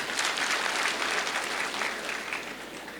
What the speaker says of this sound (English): Can you clap for the minister, please?